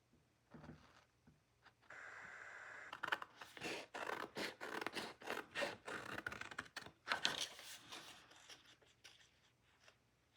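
Scissors cut out a paper figure for a handmade ephemera folder, giving a close series of crisp snips and rustling paper scrapes in irregular bursts, with no talking.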